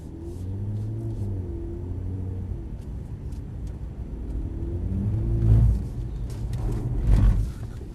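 A Mercedes-Benz car engine hums and rumbles steadily on a driving experience track, swelling twice into brief revving surges with tire noise, no talking.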